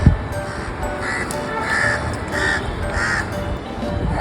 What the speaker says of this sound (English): Crows accompany me.